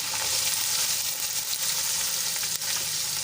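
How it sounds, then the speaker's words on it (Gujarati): Garlic and finely chopped onion frying in hot oil, a steady close hiss of sizzling with faint stirring, short and uninterrupted, no talking. "ત્યારબાદ આપણે એમાં લસણની કટકી કરી હતી એ એડ કરી દઈશું અને ઝીણી કાપેલી ડુંગળી એડ કરી દઈશું"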